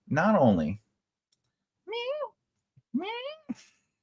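A domestic cat meows several times in short separate calls, close and clear, with quiet gaps between them and no talking.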